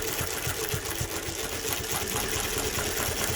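Mannan chain stitch sewing machine running a 3-thread ray stitch, a steady fast mechanical whir with rhythmic needle thumps, continuous and close throughout with no talking.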